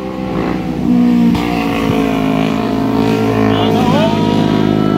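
A Sniper 1000cc motorcycle on the Marilaque mountain road, its engine revving loud and close in a sustained whine that rises and shifts in pitch over several seconds.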